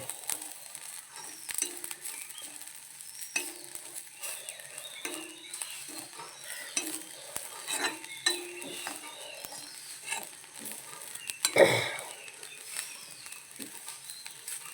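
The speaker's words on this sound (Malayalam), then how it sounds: "കുറച്ച് വെളിച്ചെണ്ണ ഒഴിച്ചെടുക്കാം. തേങ്ങ വറുക്കാൻ" Grated coconut roasting in coconut oil in a pan, with a soft continuous sizzle and scraping stirs of a spatula against the pan, quiet and close, one sharper clank of utensil partway through, no talking.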